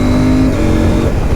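A CFMOTO 800 MT Explore motorcycle accelerating hard at full throttle, its engine droning loud and steady and close by throughout, with a tonal whine that shifts partway through.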